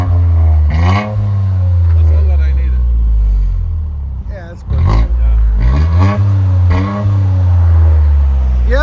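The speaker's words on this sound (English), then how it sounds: "You can hear the turbo spool." A 2023 Toyota Corolla GR Circuit Edition with its resonator deleted revs loudly nearby, its turbocharged engine note climbing and dropping in repeated surges with a short lull midway.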